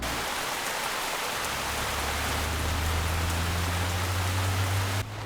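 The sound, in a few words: rain falling, in an animated cartoon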